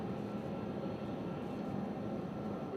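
A plane passes at UPS World Port in Louisville, a steady broadband roar at moderate distance that holds level throughout without clear rise or fall.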